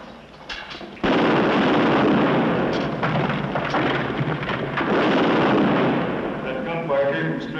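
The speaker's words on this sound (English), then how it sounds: "That gunfire came from straight ahead." Heavy, continuous booming gunfire and rumbling blasts in a 1951 war western film, loud and close, filling the whole stretch after a brief quieter start.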